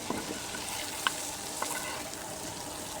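Egg frying in a pan with roasted cumin powder gives a faint, steady sizzle, broken by a couple of light clicks from a spatula.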